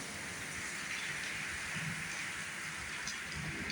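A major hailstorm pours down outside over parked cars, a dense, unbroken roar of ice hitting surfaces, loud and steady with no voices.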